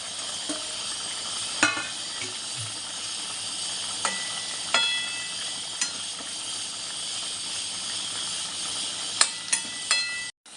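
A pot of curry with radish simmers with a continuous bubbling hiss as fish goes in, punctuated by scattered sharp clinks and splashes.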